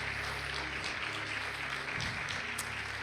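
A church congregation applauds in a steady, dense patter that carries through the whole short stretch, with no voices over it.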